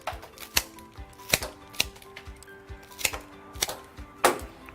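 Rose stems are trimmed for a simple Valentine's bouquet, with a series of sharp, close clicks and snips spaced about half a second apart.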